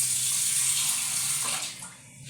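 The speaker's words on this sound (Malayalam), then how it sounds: "കുറച്ചും കൂടെ വെള്ളം ഒഴിക്കാം." Water pours into a pot of small sardine curry as a steady close splashing stream that fades out after about two seconds.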